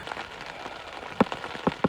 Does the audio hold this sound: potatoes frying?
no